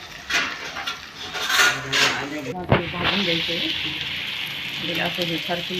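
Eggplant roasts in oil on a tawa with a steady sizzle and hiss, some utensil clinks and scraping early on, then the frying settles into a continuous close crackle.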